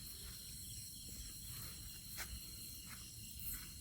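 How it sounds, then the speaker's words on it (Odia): Frogs and insects call in a forest at night, a faint, dense, continuous chorus of trilling with a few sharper calls rising above it, and no voices. "ବେଙ୍ଗ ଫେଙ୍ଗ ଯୋଉ ବୋବୁଛନ୍ତି ନା ଜୋର"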